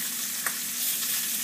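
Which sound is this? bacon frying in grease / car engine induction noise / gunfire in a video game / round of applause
bacon frying in grease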